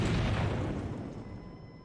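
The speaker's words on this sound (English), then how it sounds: "All of Anazat has been rocked by a gunpowder explosion." A gunpowder explosion in the video game The Life and Suffering of Sir Brante: a loud, deep boom that rolls and slowly fades with a rumbling tail, heard alone.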